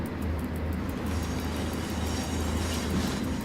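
Cargo train driven in the Simrail simulator, a steady low rumbling engine drone with a faint rail hiss, close and continuous throughout with no talk.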